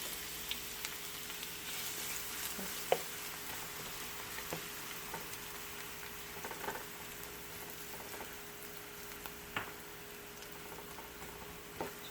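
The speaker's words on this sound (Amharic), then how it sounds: "ሽንኩርቱን ቀስ አድርገን እንጠብሰዋለን ማለት ነው።" Sliced onion frying gently in hot oil for a fava bean foul dish, a soft, steady sizzle with faint scattered pops and crackles, quiet and close.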